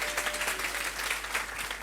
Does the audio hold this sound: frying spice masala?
no